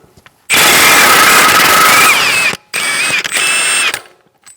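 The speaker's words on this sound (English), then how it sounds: "we're going to remove our axle nut." A power tool with a 32mm socket spinning off the front axle nut on a 2012-2018 Ford Focus, loud and close, a long whirring burst, a brief stop, then a second run that winds down.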